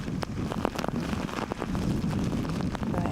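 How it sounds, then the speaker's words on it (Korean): Heavy rain from a typhoon pours down in a dense, continuous roar, with gusty wind buffeting the microphone throughout. "지금 그냥 빗물이 쏟아붓는 것 같죠?"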